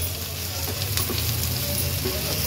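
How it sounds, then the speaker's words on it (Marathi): Finely chopped ginger and garlic fry in a pan over medium flame for restaurant-style paneer mutter, a close, steady sizzle with faint stirring throughout. "नंतर ह्यात आपण बारीक चिरलेलं आलं, बारीक चिरलेला लसूण छान मऊ होईपर्यंत शिजवून घेणार आहोत"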